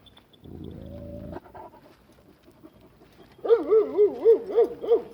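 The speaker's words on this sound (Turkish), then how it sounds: "Şile onlara bir hırladı." A Malaklı shepherd dog gives a short, low growl, then after a pause lets out a run of rhythmic, whiny panting noises close by.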